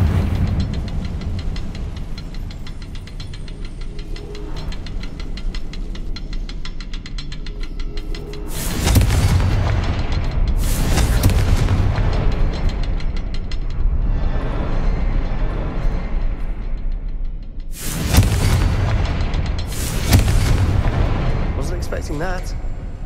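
Fiery Confringo spell blasts in Hogwarts Legacy on PS5, several loud booming explosions in bursts over a rumbling game soundscape, with a character calling out spell names.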